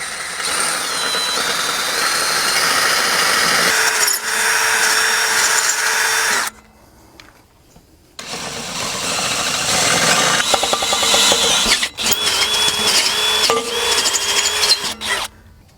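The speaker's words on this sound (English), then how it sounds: "So now I've moved up to my 3/8 bit, which should be the finished size." A power drill with a 3/8-inch bit bores bolt holes during an installation, its motor whining loud and steady with load changes, stopping briefly for about two seconds, then spinning up again.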